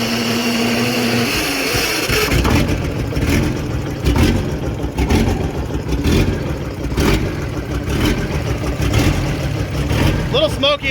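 An engine cranks and catches after sitting idle for over a year, settling into a loud, rough, steady idle with uneven pulses throughout, close by.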